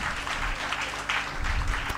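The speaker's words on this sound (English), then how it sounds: "Please give yourselves a round of applause" Applause from a student conference audience, a steady broadband patter of many hands filling two seconds, moderately loud and close, with faint voices mixed in.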